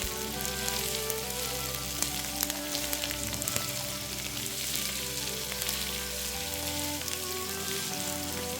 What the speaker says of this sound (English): throw in your carrots and your celery and let those saute for a couple minutes